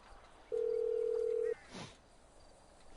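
A phone in GTA V dials Merryweather with one steady dial tone lasting about a second, then a short swooping electronic blip, heard alone over a quiet game background.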